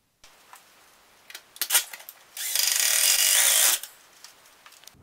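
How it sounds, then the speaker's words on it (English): Power drill driving self-tapping hex head screws into DuraVent DVL double wall stove pipe: a few short clicks and handling noises, then a steady, loud high-pitched whir lasting over a second before stopping. "it's going to secure to this with four of these self-tapping hex head screws. So we'll go ahead and screw that on right now."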